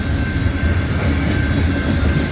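A CSX freight train hauling loaded tank cars rolls past at Mount Airy, Maryland, a continuous loud rumble with low wheel and rail noise and a faint steady high squeal, no talking.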